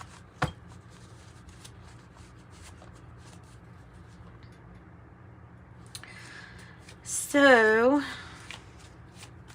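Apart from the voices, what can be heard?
shuffling tarot cards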